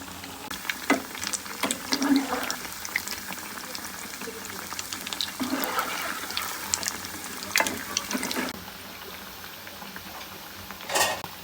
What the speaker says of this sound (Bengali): এখন আমি তেলে ভেজে নেব কিন্তু সবগুলো একদম তেলের মধ্যে দিয়ে দিয়েছি